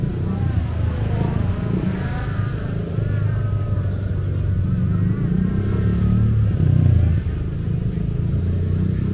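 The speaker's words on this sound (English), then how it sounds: "Steve Pike on the Suzuki" A Suzuki vintage three-wheeler's engine revs at a motorsport event, a steady loud motor drone that swells slightly near the end, with no talk over it.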